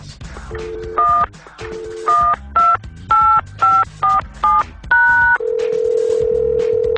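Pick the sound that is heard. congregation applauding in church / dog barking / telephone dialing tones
telephone dialing tones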